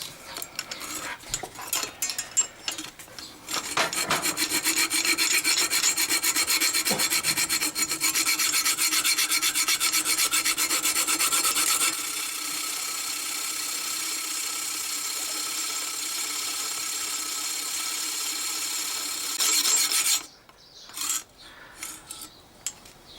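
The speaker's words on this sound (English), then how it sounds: "I'm now going to try the hacksaw." A hacksaw cuts through a DR650 motorcycle chain in a long run of rapid, rhythmic rasping strokes, close and loud, stopping abruptly near the end and followed by a few handling knocks.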